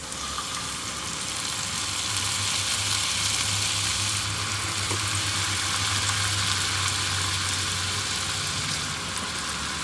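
Pinnacle vodka simmers in a hot pan for penne alla vodka, giving a steady, loud sizzling hiss that runs unbroken throughout with no talking.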